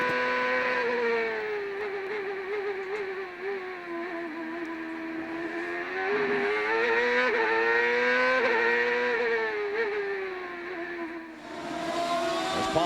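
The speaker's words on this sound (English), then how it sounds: "And you heard the engine rev, even with the traction control." A CART race car engine from the 2002 Vancouver round revs hard and steadily for the whole stretch, its pitch sliding up and down, with cold tires breaking loose. The loud, continuous engine drone holds with no talk over it.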